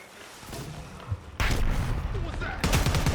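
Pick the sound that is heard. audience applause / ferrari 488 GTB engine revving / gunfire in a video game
gunfire in a video game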